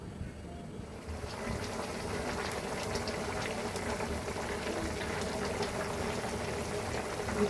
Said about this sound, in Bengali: এখন ঝোলে পানি দিলাম।